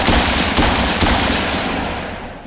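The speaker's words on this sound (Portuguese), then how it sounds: "vemos Maverick largando o tiro em Dentes de Sabre" Gunshots in a Wolverine versus Sabretooth scene, a few sharp loud bangs in quick succession at the start followed by a rumbling decay that slowly fades.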